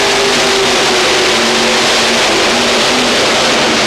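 A Dutch tractor-pulling machine powered by five Chevrolet engines roars at full throttle in an indoor arena at Ahoy Rotterdam in 1996, a loud, dense, sustained engine blare filling the space without talk.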